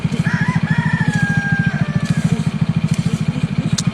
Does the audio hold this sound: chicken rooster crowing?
yes